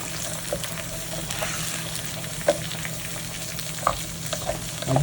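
An egg fries on the hot plate of a Little Mac fast cooker with a continuous close sizzle and crackle, broken by a few sharp spatula scrapes and taps.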